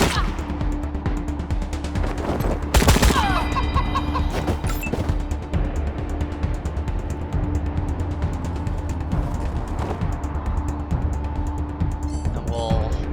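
A single sharp gunshot in Wasteland 3 cracks out early, over a steady bed of game ambience and music.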